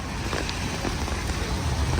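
Rain falling on the streets of Lviv, Ukraine, in bad weather, a dense, steady patter and hiss close by, constant with no voices.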